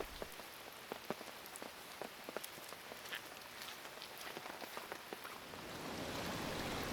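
Monsoon rain falls steadily on a rural track, a dense hiss with scattered sharp drops pattering on nearby surfaces, moderately quiet and building slightly toward the end, with no voices.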